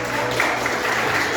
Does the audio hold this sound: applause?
yes